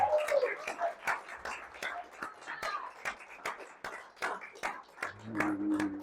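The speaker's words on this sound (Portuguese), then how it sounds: "Aplauda mais a Jesus!" A church congregation claps during a worship service: a loose, uneven run of sharp hand claps at moderate level, mixed with scattered voices and shuffling, with a low hum rising near the end.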